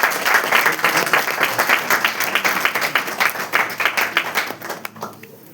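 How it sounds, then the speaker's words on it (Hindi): A crowd at a church wedding ring ceremony breaks into sustained, dense applause with many hands clapping close by, loud and continuous for several seconds before it begins to thin out near the end. "ताली बजा देंगे।"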